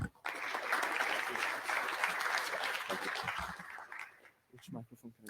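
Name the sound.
audience applause for speaker Fabio Bulgarella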